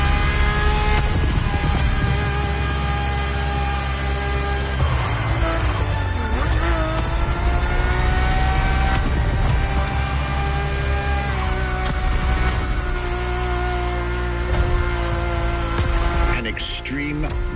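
A car engine in the video game The Crew Motorfest hums loudly and continuously as heard from inside the car, holding a rich, droning tone with occasional rises and dips in revs.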